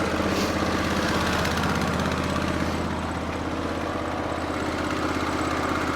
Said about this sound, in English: We'll pull the choke and turn the ignition